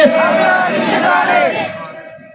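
A crowd at a religious gathering shouts a slogan back in unison, a loud massed roar of voices that swells and then fades after about two seconds.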